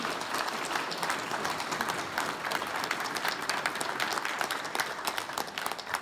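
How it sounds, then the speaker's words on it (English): Thunderous audience applause as a performer leaves the stage at a libertarian gathering, a continuous crowd roar of clapping heard from some distance and sustained evenly for the whole stretch. "the first Ron Paul meetup group in America, left the stage to the sound of thunderous applause."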